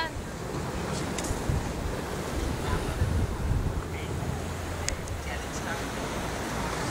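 Ocean surf breaks and washes steadily at a beach, a broad continuous roar with wind buffeting the microphone, while people talk faintly in the background.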